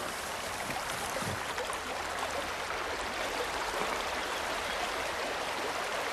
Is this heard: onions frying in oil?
no